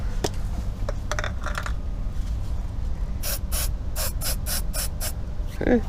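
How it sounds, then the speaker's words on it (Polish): An aerosol cleaner hisses onto car brake calipers and their bolts in a series of short, sharp spray bursts, preceded by a few scattered metallic clicks and taps, all close up. "Teraz się oczyścimy trochę. Zmywaczem jakimś, czymkolwiek. Śruby tak samo."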